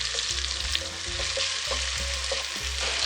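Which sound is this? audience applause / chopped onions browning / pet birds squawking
chopped onions browning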